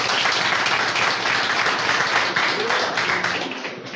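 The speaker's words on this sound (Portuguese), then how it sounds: "Aplaude, vai, é digno." A church congregation applauds, a dense, steady wash of clapping that stays loud for the whole stretch and eases off slightly at the end.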